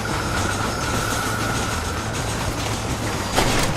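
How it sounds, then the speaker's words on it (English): In the Red Dead Redemption video game, a train rumbles past close by with a loud, continuous roar of wheels and rattling cars and a sustained high whine, ending in a sharp clank. "My rabbit just got killed by a train, ran right into it."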